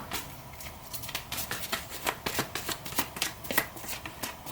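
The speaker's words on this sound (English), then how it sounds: "pull a card for Scorpio" Tarot cards are shuffled close by in a quiet room, a run of quick papery riffles and soft flicks in an uneven rhythm that goes on for several seconds, with no talking.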